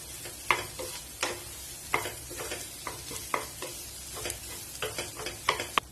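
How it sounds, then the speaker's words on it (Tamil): Vegetable bonda filling being stirred and tossed in a pan for a Tamil valakkai (raw banana) bonda snack, a steady run of scraping, clattering spoon strokes over a soft sizzle, close and alone with no voices. "இது எல்லாத்தையும் சேர்த்து நல்லா மிக்ஸ் பண்ணி விட்டுடலாம்"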